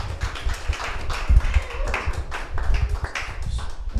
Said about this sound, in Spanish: Aplaude a la presencia del Señor.